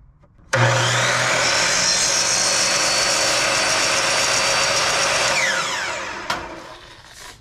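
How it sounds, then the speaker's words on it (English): A chop saw cuts through pipe for a chassis-mounted string alignment kit, with one loud, continuous, harsh grinding whine of about six seconds that starts abruptly and tapers at the end, followed by a short clunk. "I'm using a chop saw, so my cuts are nice and straight."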